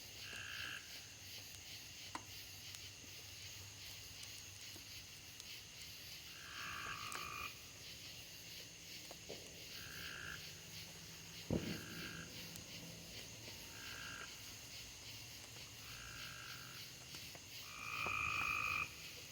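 Frogs croak at night outdoors in a repeated, evenly spaced chorus over a steady insect drone, the calls moderately close and calm, with an occasional faint knock and a louder swell near the end.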